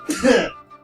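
A single short, sharp sneeze close to the listener, during a tabletop Dungeons & Dragons game session, loud and brief with a rough breathy burst.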